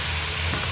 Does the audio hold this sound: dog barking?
no